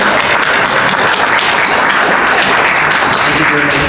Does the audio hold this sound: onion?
no